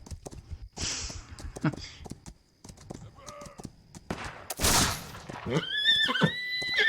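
A horse whinnies in a short high burst in a video game, followed by sharp cracks, rustling and other scattered game sounds at moderate volume.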